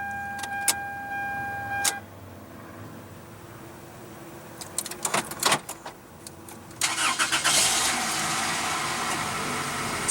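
A chime beeps a few times, then a starter cranks briefly and a 1998 Toyota Corolla's 1.8 L four-cylinder engine catches, settling into a steady idle nearby.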